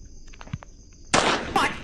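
Gunshot in the horror video game Granny Chapter 2: a sudden loud broadband blast that cuts in sharply and holds noisy for a moment, then a second crack close behind, following a stretch of quiet.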